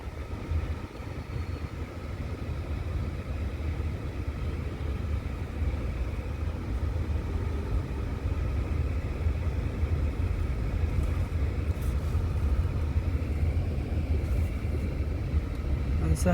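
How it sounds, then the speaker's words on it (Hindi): A car creeping forward slowly in first gear during a driving lesson, giving a steady low engine rumble and road noise throughout, with no clear revving. "जा रही है गाड़ी आगे।"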